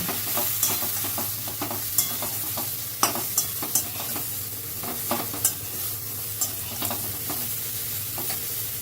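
Eggplant pieces frying with salt and turmeric in a wok, a steady sizzle broken by repeated clacks and scrapes of a stirring spatula, close and moderately loud, with no talking.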